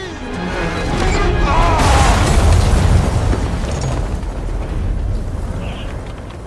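A massive explosion in God of War Ragnarok's Valhalla DLC bursts as a loud, rumbling boom that swells and then rolls on with crashing debris, while a voice speaks over it.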